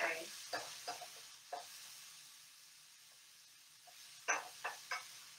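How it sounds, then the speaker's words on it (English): Garlic and red bell pepper get a light sauté in a pan: soft, intermittent sizzling bursts and spatula scrapes come in clusters at the start and end, quieter in between, fairly faint and without talk. "So you're going to give this a nice, light little saute."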